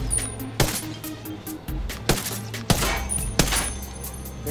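Sharp gunshots in Ghost Recon Wildlands ring out one at a time, about four spaced shots over a low ambient hum, as light panels are shot out, each crack loud and close.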